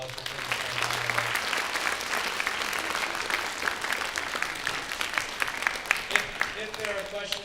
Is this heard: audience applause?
yes